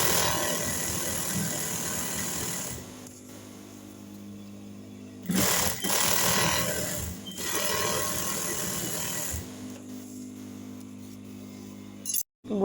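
A sewing machine stitches a blouse seam along a marked line, a continuous humming drone with a few louder bursts and pauses, ending in a brief sharp clunk.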